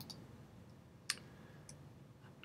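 A computer mouse gives a single faint, sharp click partway through, with a couple of softer ticks around it against a quiet background.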